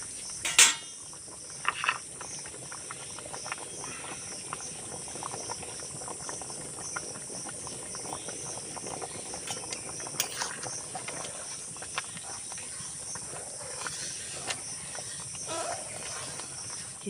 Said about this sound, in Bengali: সবজি, খুদ, ডাল সমস্ত কিছু সুন্দরভাবে এবার সিদ্ধ হয়ে গেছে।